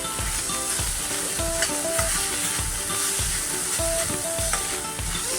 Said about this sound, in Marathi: हा कांदा खोबऱ्याचा मसाला फक्त कांदा खोबरं ते पण आपण या कांद्यावरच भाजून घ्यायचं